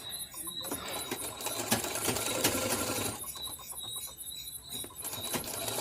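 Domestic sewing machine stitching a katori blouse, a steady whirring run with brief pauses and restarts, close and moderately loud, no voices over it.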